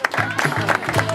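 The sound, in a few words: applause for shop assistants at a fashion show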